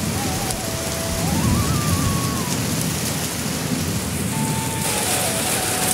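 Steady, dense rain pours down outdoors, a loud even hiss filling the whole stretch without pause, with a faint thin tone drifting in the background.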